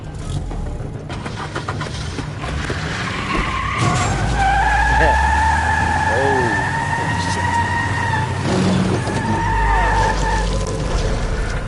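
Tires skid and a car engine roars off loudly in The Wolf Among Us, with a long sustained screech across several seconds over a low engine rumble and a brief exclamation.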